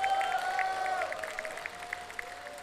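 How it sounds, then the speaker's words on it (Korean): A street-busking crowd at an international busking festival in Yeosu gives warm applause for the performer Whale Clef. The clapping is moderately loud and sustained for a few seconds, with sustained tonal sounds and some voices running through it. "다시 한번 우리 웨이클래퍼에게 뜨거운 박수 보내시면 고맙겠습니다."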